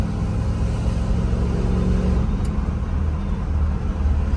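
A square body crew cab truck with a 350 engine runs with a steady, loud low rumble, as if heard from inside the cab while driving, with no talk.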